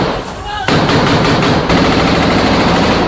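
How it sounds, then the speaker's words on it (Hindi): Gunfire from Israeli soldiers inside Jabalia camp: loud, rapid bursts of automatic fire close by, sustained and dense for about two and a half seconds after a brief lead-in. "वीडियो में इजराइल के सैनिक जबालिया कैंप के अंदर फायरिंग करते दिखे"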